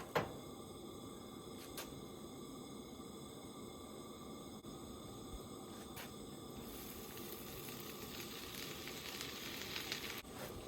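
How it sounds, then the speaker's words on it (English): Blackened fish sizzling steadily in a seasoned pan at a campsite, a constant close frying hiss with a few faint clicks and no talking. "Put the seasoning right in the pan, and then put my fish on top of that"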